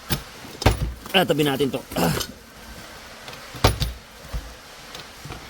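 A small bunch of keys for a desk drawer jangles in a few short, sharp bursts, close by, while someone speaks between the rattles.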